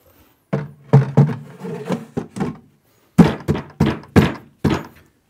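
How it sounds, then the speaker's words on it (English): A shelf being tapped down into a Cooke & Lewis 500 kitchen wall unit: two close-up bursts of hollow wooden thunks, five or six knocks in each, separated by a short pause. "Now insert your shelf, tap it down, and you have a secure but still adjustable shelf."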